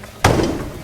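A restored trailer door slams shut once, a sharp heavy thud followed by a short rattling decay, close and loud.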